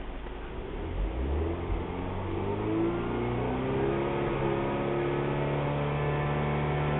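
A Mini John Cooper Works Challenge Edition engine revs up steadily and holds at about 4,500 rpm, with a loud, droning exhaust note rising in pitch, close by.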